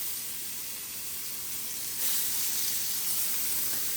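Onions sizzle in melted butter in a pan, a steady close hiss of frying that holds the whole time and grows a little louder partway through, with no voices.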